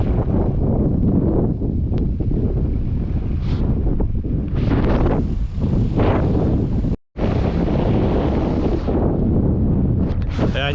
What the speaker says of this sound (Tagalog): Mahangin, sarap ng hangin eh.